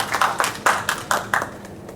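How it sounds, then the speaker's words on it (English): Scattered hand claps from an audience at a school parent orientation for Class 8, cheering academic achievers: a handful of distinct, fairly close claps in an uneven rhythm that fade out quickly. "I think they deserve the clap."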